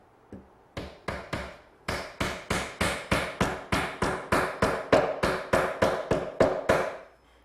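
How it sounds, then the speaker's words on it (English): Sharp mallet blows drive a double-edged chisel into a Windsor chair spindle end and then hammer a glued wedge into the split, about twenty crisp, evenly spaced knocks in quick succession, close and clear. "take a double-edged chisel, which I ground out of an old chisel, split it, and then put in a wedge with some glue"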